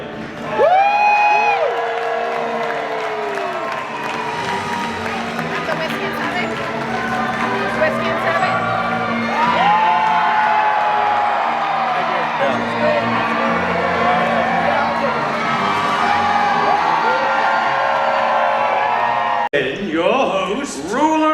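Audience at a Medieval Times dinner tournament show cheering for the knights, a sustained loud crowd roar with whoops and shouts mixed with applause, continuing without a break for about twenty seconds.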